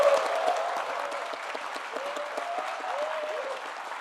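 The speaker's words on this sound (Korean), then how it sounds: "아마 기죽지 말라고 이렇게 박수를 쳐주신 것 같습니다." Steady applause and some cheering from a large audience greeting the Minister of Agriculture, Food and Rural Affairs at a presentation event in Jeonbuk, moderately loud and continuous, with a voice faintly audible underneath.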